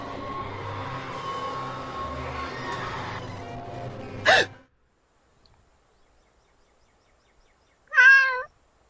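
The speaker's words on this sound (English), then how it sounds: "Who's the good kitty? Are you hungry?" A cat gives a single short, close meow after a stretch of background noise and a brief sharp sound, then silence before the call.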